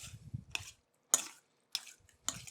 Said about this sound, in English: We'll mix everything up real nice.